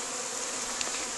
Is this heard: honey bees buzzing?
yes